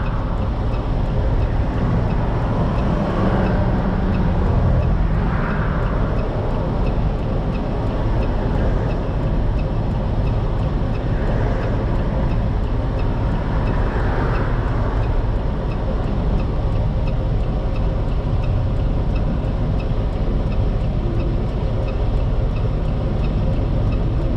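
Heavy truck engine droning under load while driving downhill and downshifting gears, a loud continuous low rumble with faint rises in pitch, muffled talk underneath.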